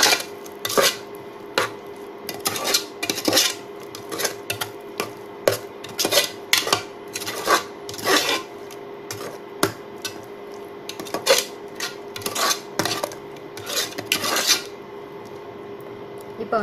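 Mutton kuzhambu ingredients mixed with turmeric and salt, a long run of repeated scraping and rasping strokes against a vessel in an irregular rhythm, close and fairly loud with no talk.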